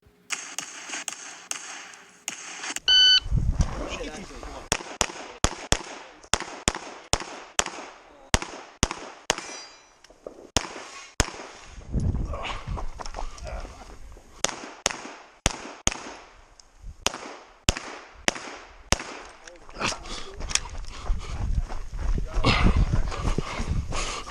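Sharp gunshots crack in rapid strings at targets on a USPSA practical shooting stage at an outdoor match, with short pauses between bursts while the shooter moves, loud and close throughout.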